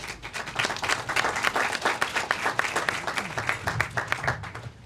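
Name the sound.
audience applause at nursing awards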